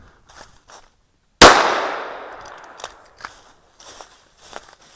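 At an outdoor shooting range, a single sharp handgun shot cracks loudly and rings out in a long fading echo, followed by soft clicks and light footsteps.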